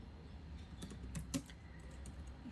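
Quiet keyboard typing in VS Code: a handful of soft, scattered keystrokes, faint and close, with no voices.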